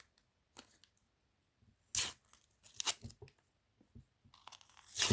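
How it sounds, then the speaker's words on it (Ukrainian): A secret surprise packet is torn open, quiet crinkling and sharp tearing of the wrapper in short separate bursts, close up and isolated. "І зараз другий пакетик, який ми сьогодні відчиняємо"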